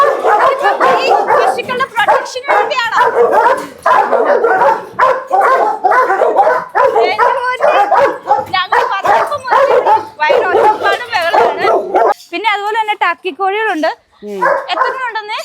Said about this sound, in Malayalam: ഇവിടെ ഡോഗ്സിനെ വളർത്തുന്നുണ്ട്